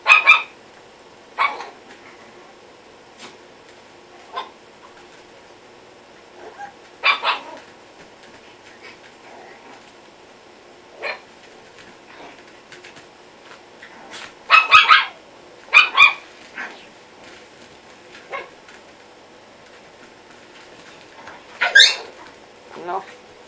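A dog indoors at home during a quiet evening gives short, scattered barks and yips, some in quick pairs, separated by quiet gaps.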